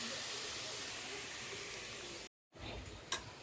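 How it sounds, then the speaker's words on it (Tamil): Chopped tomatoes fry in a pan with a steady, close broadband sizzle and hiss that cuts out briefly near the end, then resumes with a sharp tick. "நல்லா தக்காளி வதங்கட்டும்."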